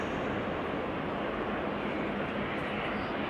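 Turkish Airlines Airbus A330-200 in retro livery at Amsterdam Schiphol Airport, a steady broad jet engine roar holding at constant loudness throughout, heard from a moderate distance without talk.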